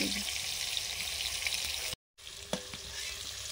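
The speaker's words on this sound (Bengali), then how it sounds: "পটল ভাজা হয়ে গেছে, তুলে নিচ্ছি।" Pointed gourd fries steadily in hot oil, a bright crackling hiss. A brief silent gap breaks it, then the frying resumes with a few clinks.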